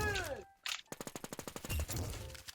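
Video game gunfire cracks out in a rapid burst of about a dozen evenly spaced shots after a short whoosh and brief silence, fairly faint and close, followed by a muffled rumble.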